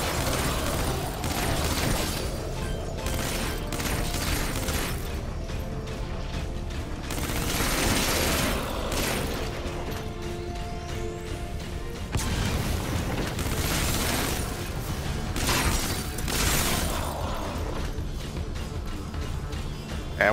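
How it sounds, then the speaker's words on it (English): Gunfire in the video game Metal Gear Survive, heard during a solo mission at a wrecked base: repeated bursts of shots and booming impacts with mechanical clatter, in uneven clusters over a busy, continuous game soundscape. "Try to pulse the fire. Don't hold the button down, because you can run out of ammo"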